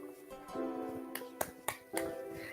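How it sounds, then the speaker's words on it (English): Three or four sharp hand claps ring out close by at an uneven pace over a faint humming tone. "I'm clapping for myself because there's no one here to clap for me"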